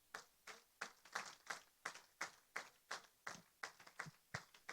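A church congregation at a Sunday service claps in steady, even rhythm, about three claps a second, loud and crisp, with no talking over it.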